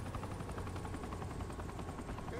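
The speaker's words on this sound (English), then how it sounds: "Oh, that's an attack helicopter too." An attack helicopter in the video game Saints Row The Third thumps with rapid rotor beats, a dense, loud whirring that fills the short stretch without speech.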